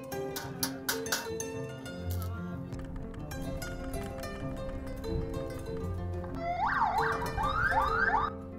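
An ambulance siren wailing and warbling within a busy, music-like mix of layered tones, growing louder toward the end, moderately distant.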